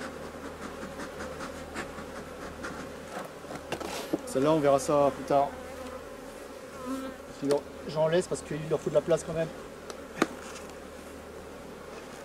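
Honey bees buzz steadily throughout a summer honey harvest while a person speaks over them, with a few clicks and knocks of equipment such as bee escape boards being handled.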